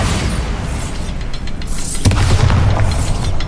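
A Bombarda blasting spell going off in Hogwarts Legacy: a loud, rumbling magical explosion with a deep boom that swells partway through, over a continuous noisy game mix.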